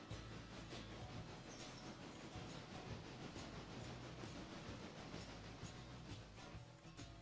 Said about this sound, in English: it's the passenger train. Okay, passenger train is just now reaching Topton,